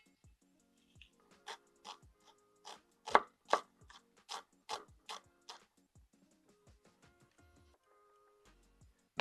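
A knife dices shallots on a cutting board, producing a close, steady series of crisp chops that speed up, then thin out into a few lighter taps with no talking.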